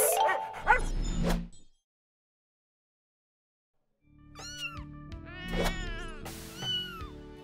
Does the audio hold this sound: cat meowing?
yes